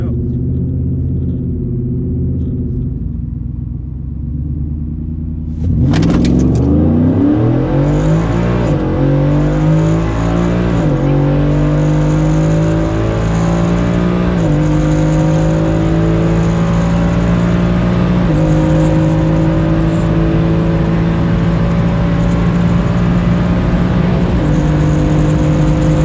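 A 2018 Ford F-150 with an MBRP exhaust starts up after a quiet lead-in, then revs and pulls away, its loud, deep exhaust note rising and shifting as it drives off, heard close with no talking.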